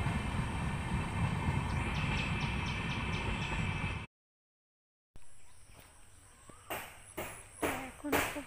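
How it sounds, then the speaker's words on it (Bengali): A train rolls along a nearby railway line on a rainy day, a heavy continuous rumble at first, then after a short break quieter rattling with a few sharp, rhythmic bursts. "ট্রেন সব সময় একটু পরে পরে চলে আসে"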